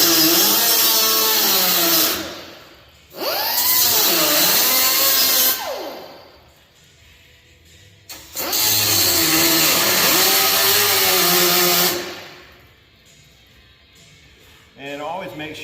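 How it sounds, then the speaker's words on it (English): A bench grinder works steel in two long, loud bursts of abrasive whine with rising and falling tones as the metal is pressed in, separated by quieter gaps where people talk. "I might have to get the grinder action going on the bench grinder"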